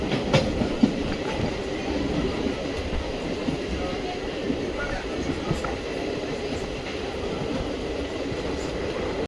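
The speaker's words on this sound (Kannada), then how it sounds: "ಮೂವತ್ತೆರಡು ಕಿಲೋಮೀಟರ್ ಕವರ್ ಆದಮೇಲೆ ನಮ್ಮ ಟ್ರೈನ್ ಬಂದೈತ್ರಿ ಈಗ ಹಳ್ಳಿಕೇದ್ ಬಿಗೆ." A passenger train runs steadily toward a small station on the Bidar–Kalaburagi line, a continuous loud rumble of wheels on rails with faint clickety-clack and occasional squeaks, heard close from inside the carriage.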